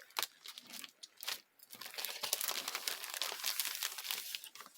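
Craft paper being handled and crinkled for a stamping project, a dense, continuous rustling and crackling that starts in short bursts and then runs steadily, close and fairly loud with no talking.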